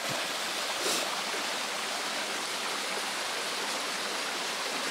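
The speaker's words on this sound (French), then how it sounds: "Le petit ruisseau qui a fait du bien pour remplir les bouteilles." A small forest stream flows steadily, its broadband rush of water even and continuous throughout, close by with no voices.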